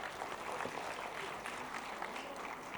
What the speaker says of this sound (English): Dear audience, give them a huge round of applause.